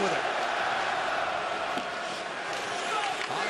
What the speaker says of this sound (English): the sold-out crowd at Canada Life Centre were cheering their team on by chanting US backup at opposing goalie Jake Oettinger